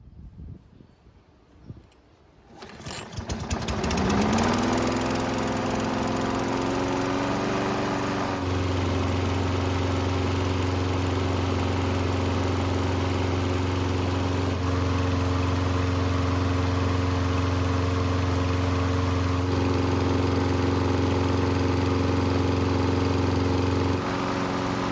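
Small lawn mower engine cranks, catches and settles into a loud, steady close-up run after a fresh fuel line is fitted, its hum stepping lower and fuller partway through.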